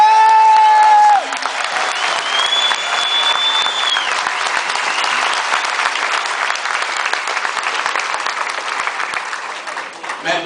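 A large crowd at an anti household tax rally in the National Stadium, Dublin, breaks into loud, sustained applause with cheering. The clapping dominates throughout, while a voice carries over it at the start and again briefly in the middle.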